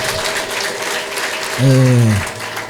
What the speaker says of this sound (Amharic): ለጌታ ከዚህ በላይ እልልታ፣ ጭብጨባ።